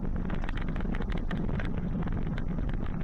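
Wind rushes and buffets the microphone while riding a bicycle at night along a road, a constant, loud, broadband roar with no pauses and no voices.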